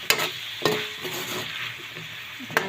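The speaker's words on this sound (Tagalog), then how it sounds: "Kailangan natin igisa lang siya." Beef sautés in a pan with a steady close sizzle, punctuated by a few sharp clacks of a utensil striking the pan.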